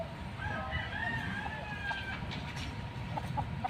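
Chickens cluck and call faintly in the distance over a low outdoor background hum, with a few short chirps near the end.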